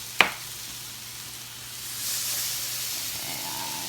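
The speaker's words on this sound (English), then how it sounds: "And I'm just turning my kebabs" Kebabs in a hot pan give a steady close hiss and sizzle after a sharp click as they are turned, the frying swelling slightly louder toward the end.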